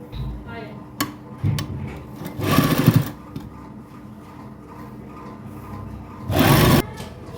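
A sewing machine stitches lace onto fabric along an earlier seam, running in steady close bursts with short louder passages, without speech.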